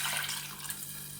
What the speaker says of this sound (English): 3 bowls of water we'll add.